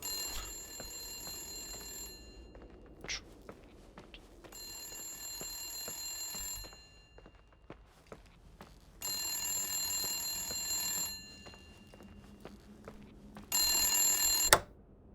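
A telephone rings in the video game The Suicide of Rachel Foster, several long electronic bell bursts separated by quiet gaps, clear and close with faint background tones.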